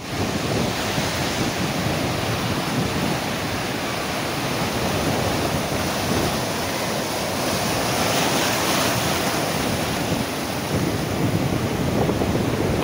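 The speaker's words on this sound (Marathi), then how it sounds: "किती मोठ्या प्रमाणात लाटा येतात त्या तुम्ही बघू शकता।" High-tide sea waves crashing on the Mumbai shore after rain, a steady, loud, broad roar of surf and wind heard up close, with no voices.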